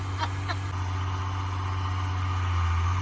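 A tractor engine runs steadily while baling hay in a field, a constant low drone with a couple of brief higher clicks near the start and no speech.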